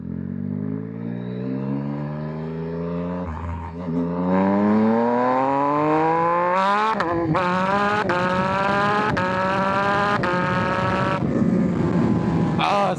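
A 2024 Yamaha XSR900 motorcycle with a flashed ECU pulls hard in first gear, its engine note climbing steadily in pitch and loudness, then rising through sharp gear-change breaks, loud and close throughout.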